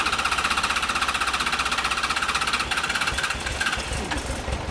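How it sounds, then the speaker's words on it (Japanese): A 2008 Yamaha DragStar 1100 Classic motorcycle with a Kentec aftermarket muffler idles close by, a loud, steady, rapidly pulsing throb that shifts slightly in pitch partway through. "ほんならエンジン音聞かせてもらおうかな"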